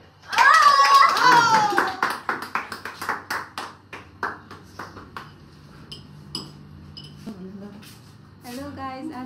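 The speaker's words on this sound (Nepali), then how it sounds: "टुङ्गाउँछ ताली" A small group claps briskly for a few seconds, loud at first, then tapering into scattered, uneven claps while a voice talks over it and further talk follows.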